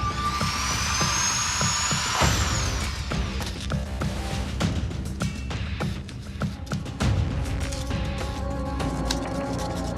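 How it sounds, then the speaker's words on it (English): A drill bores through the solid lining of a piece of luggage to take a sample, giving a loud high whine that dips at about two seconds and then turns into rough grinding, with clatter and handling noise. "A drill will be used to penetrate the solid layer and to take a sample to be tested and"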